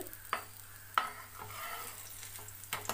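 Potato cheese balls shallow frying in a little oil, a quiet steady sizzle broken by a few sharp utensil taps and scrapes as they are moved in the pan.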